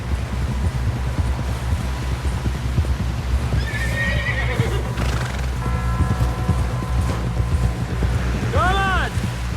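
A horse in the Red Dead Redemption 2 video game lets out a loud rising whinny near the end, with steady hoof clatter and wind throughout and brief voices in between.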